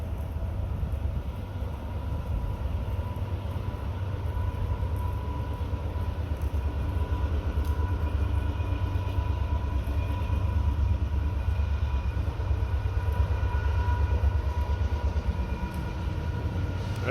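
A train peels off onto the Norfolk Southern line, its steady low rumble filling the distance without a pause.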